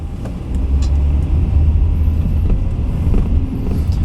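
A 2000 Dodge Intrepid ES on a neighborhood test drive gives a steady low engine and road rumble from inside the cabin, loud and continuous with faint rattles and no talking.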